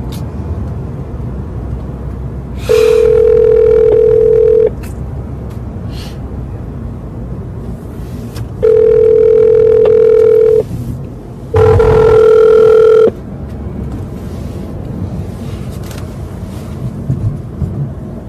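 A telephone rings ahead of a voicemail greeting: three long, steady electronic tones, loud and close, separated by pauses over a constant rumbling background.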